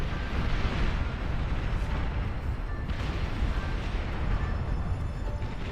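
The Tyrannus unit's Yamato cannon fires in the real-time strategy game Beyond All Reason, heavy booming blasts and rumbling explosions across a chaotic, continuous battle.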